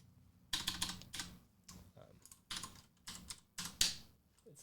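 Bursts of rapid typing on a computer keyboard, close and crisp, come in short clusters with brief pauses between them.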